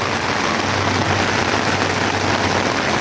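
A heavy downpour roars without a break, a thick, even wash of drumming water near at hand, with a faint low hum beneath and no one speaking.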